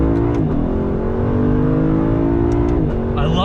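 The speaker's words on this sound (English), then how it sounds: "Accelerate first gear." A 2019 Lexus LC 500 with its V8 pulls hard in first gear, engine note climbing steadily and loudly before a brief ignition-cut blip at the upshift, heard from inside the car under a man's speech.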